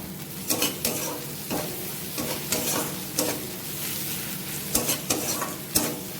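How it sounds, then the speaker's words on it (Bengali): Spices and green chilli powder fry in hot oil in a pan while being stirred, a steady close sizzle broken by repeated scraping strokes of a spoon against the metal. "মশলাটা খুব ভাজা ভাজা হয়ে গেছে,"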